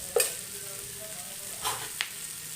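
Coriander powder fries in a little oil in a pan for village-style mutton sambar, a soft steady sizzle with a few sharp scrapes of a spoon stirring, close and quiet with no talking.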